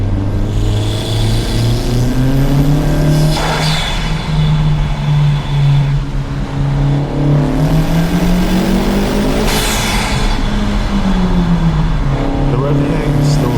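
A 250 WHP Honda Civic Si on a race track, its engine loud and close as it revs up and down through gears with a lingering rev hang, while a driver talks over it.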